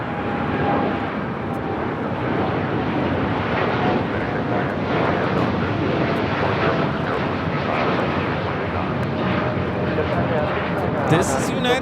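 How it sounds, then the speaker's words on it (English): United Airlines Boeing 787-10 Dreamliner taking off from LAX, a loud sustained engine roar heard under continuous talking. "This is United Airlines Flight 1402 taking off to Newark on the 787-10 Dreamliner"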